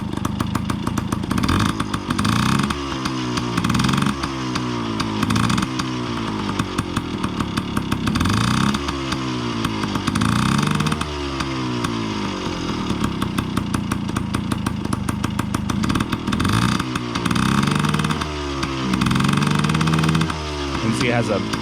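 A Yamaha PW50 dirt bike engine with carburetor and cable issues runs nearby, its two-stroke buzz rising in repeated revs and sagging as it bogs down, loud throughout while a person talks over it.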